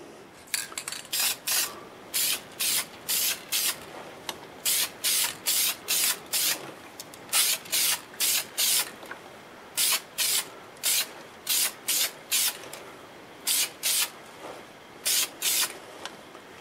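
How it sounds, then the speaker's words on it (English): Light dusting coats of finish are sprayed onto a segmented padauk wood turning in a rapid run of short, rhythmic hissing bursts, often in groups of three or four, close and fairly loud, with brief pauses between. "I've explained really light dusting coats on it maybe two or three times."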